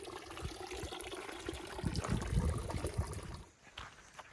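Water trickles and splashes steadily at a trail water source along the Pacific Crest Trail, a close, continuous babble that swells slightly midway and then thins toward the end, with no voices.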